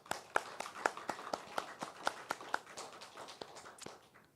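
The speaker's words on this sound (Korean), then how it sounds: "하나님께 영광의 박수 올리기를 원합니다" Scattered, fairly quiet handclaps at a dawn church service, around a dozen distinct claps in an uneven rhythm from a small group, thinning out toward the end.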